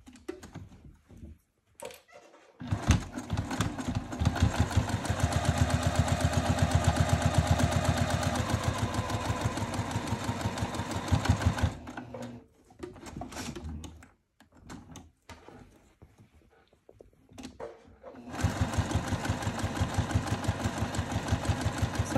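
A sewing machine stitches a crossbody bag in two long runs of rapid rhythmic needle strokes, broken by a pause with scattered clicks and handling noises before stitching resumes.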